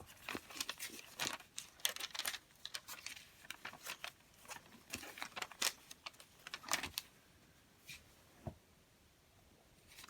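Paper being folded by hand into an origami spinning top, with a run of crisp crinkles, creases and rustles that come close and fairly loud in irregular bursts.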